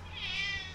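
A cat gives a single drawn-out meow, close and clear, lasting under a second over a quiet indoor background.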